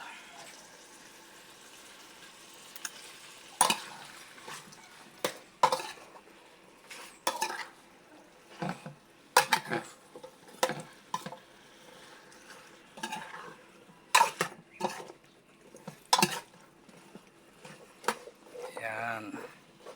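Okra and mushrooms stir-fried in a pan, a low sizzle under irregular scraping and sharp clanks of a utensil against the pan, close, with a person talking over parts of it.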